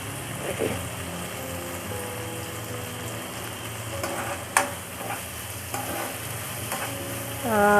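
Tomato, potato and cauliflower curry sautés in a pan, a steady close sizzle punctuated by clinks and scrapes of a spoon stirring, with a sharp knock midway.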